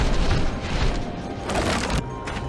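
Cannon fire on a troll stronghold in the Skylanders Giants video game booms in rapid, overlapping blasts, a dense, loud barrage of explosions with no speech.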